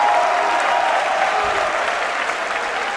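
A large arena crowd at the Dota 2 Boston Major grand final applauds loudly and steadily, a dense wash of clapping with cheering mixed in throughout.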